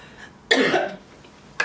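A single harsh cough bursts out loudly and close, followed after a pause by the start of another short cough.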